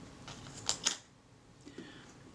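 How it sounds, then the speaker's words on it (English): The front lens element of a Kodak Retinette IA camera is turned loose by hand. Two quick, sharp metallic clicks sound close together, followed by fainter scraping ticks, all quiet and close. "So the front lens group just unscrews."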